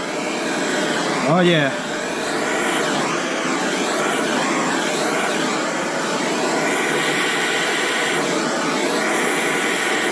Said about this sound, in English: Alright guys, I got my torch ready. I really didn't want to heat this because so much plastic.